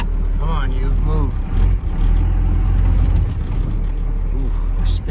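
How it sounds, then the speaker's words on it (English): A Cummins diesel-powered build stuck in a hole spins its wheels, making a loud, steady, low engine drone that fills the whole stretch while someone talks over it. "Ooh, we're spinning. It's actually sunk in a hole."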